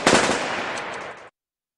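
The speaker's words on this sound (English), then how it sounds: "Machine gun fire." Rapid burst of machine gun fire, loud and close, a dense continuous rattle lasting just over a second before cutting off abruptly into silence.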